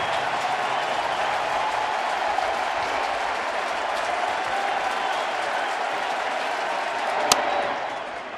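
Stadium crowd at a Giants vs Nationals baseball playoff game, 2014 NLDS Game 2: a broad, steady roar of cheering and applause from a large crowd, with one sharp knock near the end.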